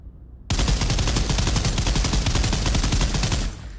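A gun fires in the video game Pavlov as a sustained burst of rapid automatic shots, loud and close, lasting about three seconds after a brief quiet start.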